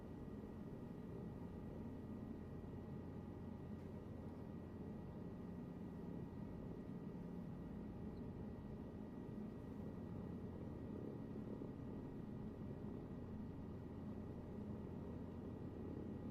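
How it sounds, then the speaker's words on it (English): An aircraft taxiing in Flight Simulator 2024, a faint steady engine hum and low rumble droning evenly throughout with no other sounds. "we're taxiing out to a bloody helipad"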